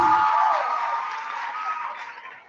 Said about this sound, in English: just clap for him before I introduce him